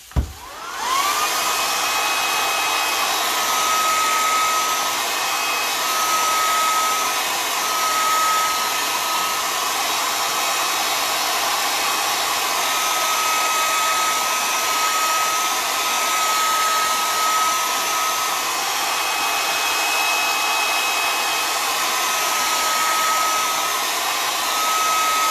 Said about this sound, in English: you're going to have to use the hairdryer